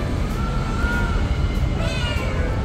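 A cat sitting on a parked motorbike meows a few times, thin rising calls heard over steady loud outdoor background noise.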